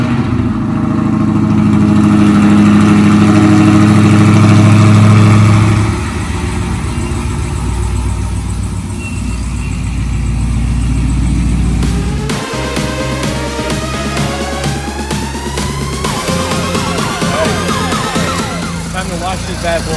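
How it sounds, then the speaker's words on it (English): A Dodge Demon's engine cold-starts loud and close, with a churning, high-revving start that settles into a rough, rumbling idle while a voice talks over it. "Guys, it's time for a cold start."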